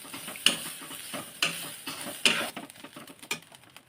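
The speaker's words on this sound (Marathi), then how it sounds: "खोबरा सुद्धा लाल होईपर्यंत भाजून घ्यायचा." Grated coconut being dry-roasted and stirred in a pan until reddish, with soft scraping and light sizzling, punctuated by three sharp clinks of the spatula against the pan.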